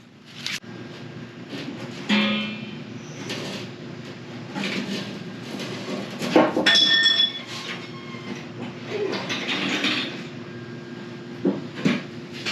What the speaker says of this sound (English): I'm gonna go to the other side and lower the jack, and that skid plate should come down